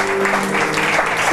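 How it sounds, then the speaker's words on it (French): Congregation applauding at an ordination service for a newly arrived man of God from Ghana: steady dense clapping filling the short span, with a sustained tone and faint voices underneath. "can you clap for me?"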